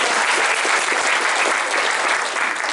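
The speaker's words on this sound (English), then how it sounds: "Round of applause for your name." A room of mixed audience members gives a round of applause during a talk, dense and loud clapping that continues steadily throughout with no talk over it.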